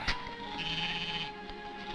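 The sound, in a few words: goat bleating in 1951 film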